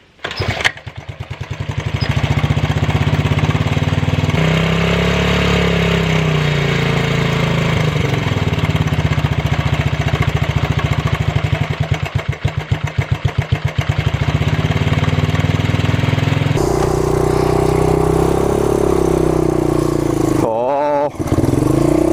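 A vintage motorcycle engine runs close and loud after an idle adjustment. It idles roughly and revs up and down with uneven, hiccuping changes in pitch, and a voice speaks briefly over it.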